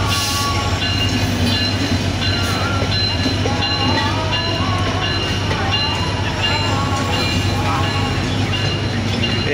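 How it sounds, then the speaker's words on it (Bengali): Two trains pull into a railway station together, a loud, continuous rumble of wheels and cars with sustained tonal whines and squeals on top and faint voices in the background throughout. "একসাথে 2 ট্রেন ঢুকে গেছে।"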